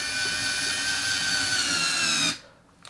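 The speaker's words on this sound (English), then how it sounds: "Now we'll drill it next to the original one" A Ryobi cordless screwdriver runs steadily for about two seconds, driving a screw into wood with a close, high whining motor tone, then stops abruptly, with no talk.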